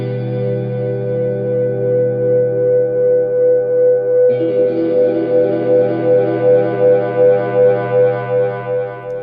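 A virtual electric guitar in UJAM Virtual Guitarist Cinedream plays sustained chords, then a brighter strum repeats in quick eighth-note delay echoes that pulse rhythmically and build with feedback.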